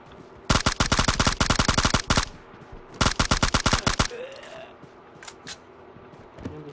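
Automatic M4 rifle fire in a shooting video game, two sustained bursts of rapid, evenly spaced shots, loud and close, then quieter game ambience with faint effects.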